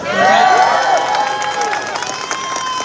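A crowd at an animal rights event claps and cheers in a room; a loud wash of mixed voices and clapping swells at the start, then tapers while a speaker's voice rises above it.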